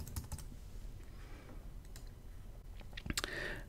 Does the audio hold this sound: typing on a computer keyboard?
yes